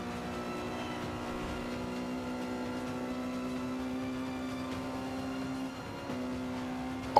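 Car engine in Forza 5 on Xbox One, drafting in another car's slipstream during a race: a steady, sustained engine drone with layered harmonic hum, holding near-constant pitch with a brief dip near the end, no talking.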